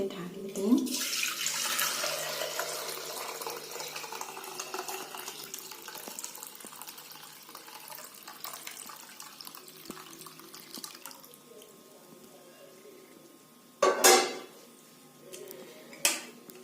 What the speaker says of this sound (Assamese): এতিয়া মই গাখীৰখিনি এনেকৈ মই ইয়াতে ঢালি দিম